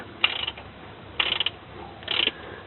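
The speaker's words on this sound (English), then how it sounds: "I'm using a 1/2-inch drive socket set directly, socket attachment directly onto the plug" A 1/2-inch drive socket ratchet clicks in three short bursts on the gearbox drain plug of a Nissan Skyline R33 manual gearbox. The bursts are evenly spaced, crisp and close, with no talk over them.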